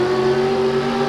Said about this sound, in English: Gary Saline, Norfolk, Nebraska, 79 Ford, 600 cubic inch Bossford engine.